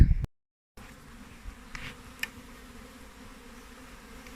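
Honey bees fly around an opened hive in early May, a steady close buzzing drone that begins after a brief silent gap, with a few louder passes near the microphone.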